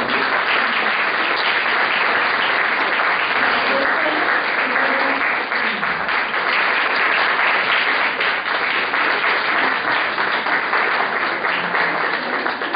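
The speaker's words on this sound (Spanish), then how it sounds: "a la doctora Ana María Serrano Fernández, para que tenga un aplauso." Sustained applause from a large audience, thick and continuous clapping that keeps going without pause.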